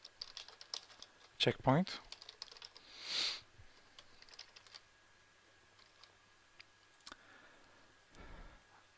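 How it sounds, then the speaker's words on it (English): Someone types on a computer keyboard, and a few quiet key clicks and taps come through under a speaking voice. "We will type something in Notepad."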